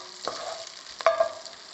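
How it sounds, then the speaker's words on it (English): Large prawns frying in a hot pan, a steady sizzle with a couple of louder spatters and stirring clatters partway through. "Now I'll be frying this. This is a big prawn"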